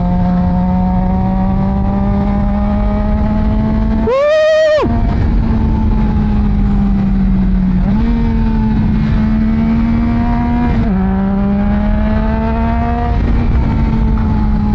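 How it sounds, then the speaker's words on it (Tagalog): A Triumph Trident 660 motorcycle engine revs under throttle, loud and close, with a steady droning pitch that climbs and dips through several gear changes and one sharp high rev burst partway through, no talking. "Throttle therapy talaga pag gamit ng Trident."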